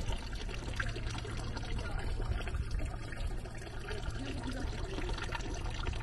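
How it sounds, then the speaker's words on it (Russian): Water splashes and trickles continuously from a nearby public drinking fountain in Basel, Switzerland, a steady bright gurgling with no voices. "Вот тут везде такие вот фонтанчики, типа. Это питьевые, да?"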